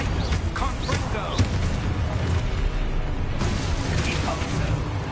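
A Confringo blasting spell explodes in the Hogwarts Legacy video game amid dense, loud game noise, with booms and bursts running continuously and a voice speaking over it.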